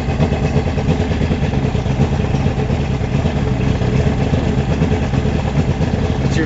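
A Mercury 225 outboard engine on a Boston Whaler Outrage runs steadily after its very first start, a loud, continuous close-up drone with no change in pitch or level.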